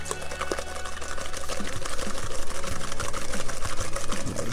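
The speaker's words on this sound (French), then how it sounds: "j'aurais pu utiliser le fouet électrique, mon batteur électrique, mais j'ai opté pour le fouet et ma main" A hand whisk beats cake batter in a bowl, making a fast, steady rhythmic scraping and clatter heard close up, with no talking over it.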